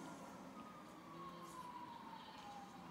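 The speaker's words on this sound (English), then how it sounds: "I hear the cops." Police sirens in the GTA V video game, a faint, distant wail sliding slowly in pitch beneath a steady low rumble of traffic and game ambience.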